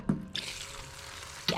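Water runs from a camping instant water heater outdoors, a faint steady trickle and splash with small drips and a couple of brief knocks at the start and end.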